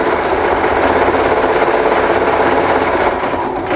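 An embroidery machine stitches out an applique with a steady, loud, fast mechanical whir and rattle that carries on without a break, with no talking.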